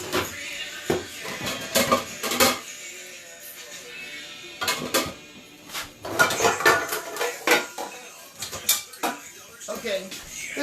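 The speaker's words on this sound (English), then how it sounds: "And I'm going to get a small pan." A small pan is pulled out and handled in a home kitchen while cooking chicken Alfredo, giving a run of close metallic clanks and clinks that come in bursts over about ten seconds, with a voice talking between them.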